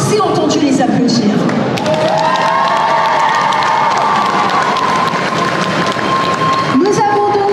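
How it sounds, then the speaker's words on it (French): A live crowd at a gaming event cheers, whoops and applauds loudly for a panel of judges, a continuous dense roar with shouts rising over it and a voice talking through the noise. "je crois que je ne vous ai pas assez entendu les applaudir"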